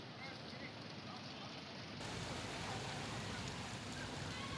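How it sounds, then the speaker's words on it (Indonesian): Heavy rain pours over the city of Jakarta, a dense, steady hiss of falling water that grows fuller and louder partway through. "hujan deras yang mengguyur kota Jakarta sejak Sabtu pagi"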